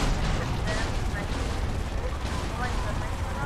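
Gunfire aimed at a helicopter in GTA Vice City: a dense, continuous barrage of shots and explosive rumble, loud and unbroken throughout, with a voice mixed in.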